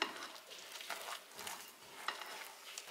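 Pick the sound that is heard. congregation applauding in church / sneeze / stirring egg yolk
stirring egg yolk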